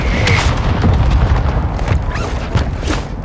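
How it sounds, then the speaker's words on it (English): A mortar strike explodes in Call of Duty: Warzone 2.0 Resurgence, a loud, heavy booming rumble that rolls on without a break, thick with low thuds. "Hostiles launched the mortar strike."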